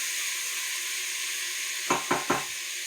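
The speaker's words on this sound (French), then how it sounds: "je vais essayer de la saisir pendant environ 3 à 4 minutes" Meat sears in a hot pan with a steady, loud sizzle, broken near the end by three quick clinks of a utensil against the pan.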